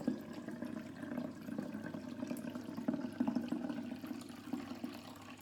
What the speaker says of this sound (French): Alors là, c'est de l'eau du robinet.